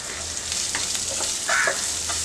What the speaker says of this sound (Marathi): कांदा व्यवस्थित फ्राय करून घ्यायचा आहे